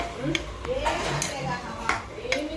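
Ridge gourd pieces, soaked chana dal and chili powder being stirred together in a metal pot, with a few faint clinks and scrapes of a spoon under a speaking voice.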